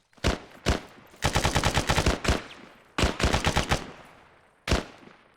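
Bursts of automatic gunfire in the military video game Arma 3 Antistasi, loud rapid volleys of close shots in several strings with short gaps and a final single burst, no voices over them.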